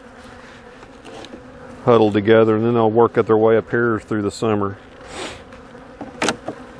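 Honey bees from a tiny, weakened swarm hum softly around the hive frames, a thin steady drone beneath someone speaking close up.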